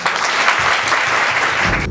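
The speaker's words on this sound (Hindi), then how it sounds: "एक बार इन महत्वपूर्ण लोगों के लिए जरा जोरदार तालियां बजाइए" Loud, dense applause from an audience of students at a YouTube channel launch event in Kanpur, welcoming the guests with steady clapping that holds for the whole stretch without voices.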